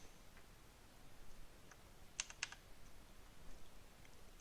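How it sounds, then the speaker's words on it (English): Sparse, faint keystrokes on a computer keyboard, a few scattered clicks with a short cluster of sharper taps near the middle, while code is entered in a quiet room. "just do exactly as I'm typing it."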